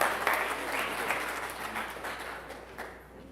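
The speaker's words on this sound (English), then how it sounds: "so give him a round of applause." A church congregation at an Igbo Anglican harvest thanksgiving service breaks into steady, dense applause that holds for several seconds before slowly tapering off, filling the hall.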